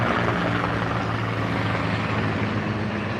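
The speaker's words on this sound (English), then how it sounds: "There's that helicopter again." A helicopter flies over the Las Vegas Strip, its steady rotor chop and engine drone holding loud and continuous throughout with no talk over it.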